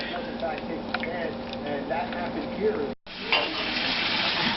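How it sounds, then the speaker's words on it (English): Oxtail boiling in a pot, a constant bubbling hiss close by, heard beneath a person talking throughout. "Okay, now it's boiling."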